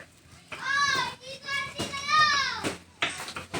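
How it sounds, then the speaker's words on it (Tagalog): Children playing noisily indoors at home, several young voices shouting and chattering in high, excited bursts close by, with short pauses between outbursts. "Pensya na po, maingay po yung mga bata."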